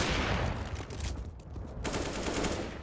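Gunfire in the video game CS:GO during a bomb-site rush: dense, rapid bursts of shots throughout, with a brief lull partway through before the firing resumes at full loudness.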